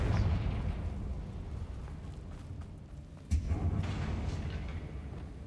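A Confringo blasting spell in Hogwarts Legacy explodes against a bridge, a sudden booming burst at about 3.3 seconds over a dense rumbling game soundscape, with no talk.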